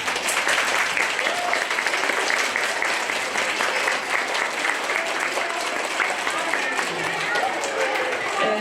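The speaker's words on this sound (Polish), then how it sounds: "Brawa dla swoich panów." Sustained audience applause at the close of a patriotic concert, steady and dense throughout, a crowd clapping together without pause; a voice may be faintly present underneath.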